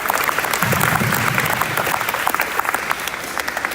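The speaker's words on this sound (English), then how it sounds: "We can give him a round of applause." Audience at a sports banquet gives a steady round of applause, dense, even clapping from many hands in a room that holds for nearly four seconds, with a little crowd murmur mixed in.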